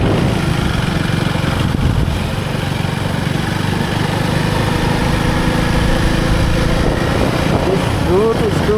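A Kawasaki motorcycle engine hums steadily and fairly loudly throughout the ride, mixed with rushing wind noise, on a road trip from Mangaluru toward Jog Falls.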